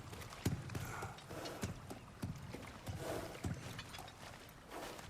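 A kelpie water horse in God of War Ragnarök walks with soft, evenly spaced hoof clops, about a step every half second or so, quiet and steady over a faint background wash.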